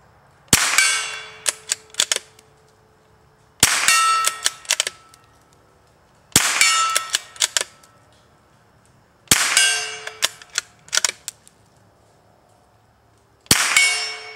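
Five gunshots with subsonic ammunition ring out at roughly three-second intervals, each a sharp close crack followed by brief metallic clinks and rattles, with quiet between shots.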